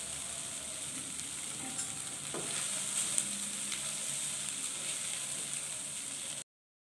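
Flattened rice (chira) tossed into a hot frying pan, giving a steady soft sizzle and scraping stir, close and moderately quiet, without talk.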